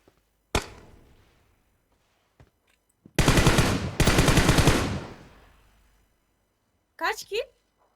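Gunfire in PUBG Mobile: a single sharp shot, then a dense rapid burst of automatic fire lasting about two seconds, with brief speech-like voice sounds near the end.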